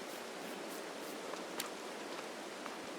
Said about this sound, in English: Oh, we got a rainy season today.